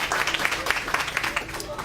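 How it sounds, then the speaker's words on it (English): At the National Ploughing Championships Lady Farmer of the Year final, an audience applauds a contestant with brisk, steady clapping that fills the hall while a voice talks over it. "Give her a round of applause."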